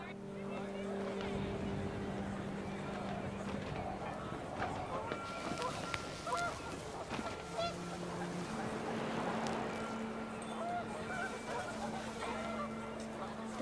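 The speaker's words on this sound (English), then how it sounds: "The wind picked up, and panicked geese appeared and quickly went." A flock of geese honks repeatedly in What Remains of Edith Finch, the calls mixed with gusting wind and ambient game sound, with narration faintly present.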